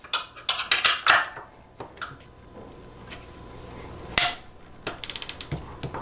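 A Wera Safe-Torque 1/4-inch torque wrench (2–12 Nm, set near 4 Nm) turning a nut held from below gives loud mechanical ratcheting, then a quick burst of sharp clicks as it hits its limit.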